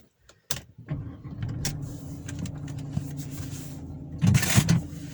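A Mercedes C180 Kompressor car on a test drive, heard as a steady low engine hum inside the cabin, with a few sharp clicks and rattles and a louder burst near the end.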